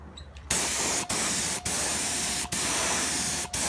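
Close, loud bursts of wood stain sprayed onto wood hiss in a row, five in all, separated by very short gaps.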